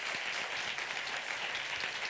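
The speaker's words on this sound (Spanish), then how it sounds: "Un aplauso." Applause from a studio audience at a Spanish regional TV contest show, steady and moderately loud for a couple of seconds.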